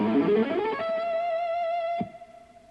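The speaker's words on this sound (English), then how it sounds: "lick number 19 goes down 3 octaves, and it sounds like this." Quick distorted electric guitar shred lick descending three octaves: a fast flurry of notes that gives way to one long sustained high note, then a sudden stop, loud and alone.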